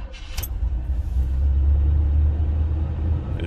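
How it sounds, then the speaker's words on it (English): An original 1978 Chevrolet Caprice engine cranking briefly with a short starter whir, then catching and settling into a steady, close, low idle rumble, no talk. "I'm gonna crank it up, and I'm gonna just show you how good this car run."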